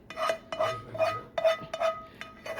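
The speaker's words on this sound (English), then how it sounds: "And now we are going to carefully add it to the pot." Metal utensil clinks and scrapes against a full soup pot of cabbage roll soup as ingredients are added, a series of sharp, close, irregular taps and knocks.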